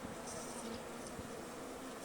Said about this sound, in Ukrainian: повністю і кормушка, все забитий бджолою